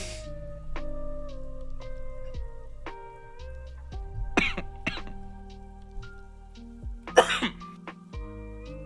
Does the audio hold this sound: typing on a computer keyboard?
no